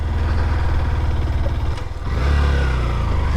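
A motorcycle engine labors up a steep mountain road in first gear, droning close and loud, dipping briefly and then surging again as it pulls harder.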